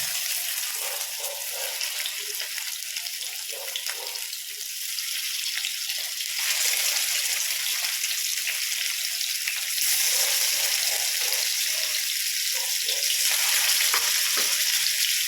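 Fish frying in sunflower oil in a pan for a curry, a steady close hiss and sizzle that swells slightly partway through, with faint scraping and no speech.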